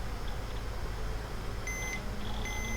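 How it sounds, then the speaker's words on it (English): A Toshiba T2130CS laptop emits a few short, high electronic beeps in two clusters, clear and close over a low steady hum with no talk. "Beep, beep, beep."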